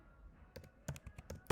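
Keys clack on a computer keyboard during an Excel data-analysis class, a short run of quiet, close taps in an uneven rhythm.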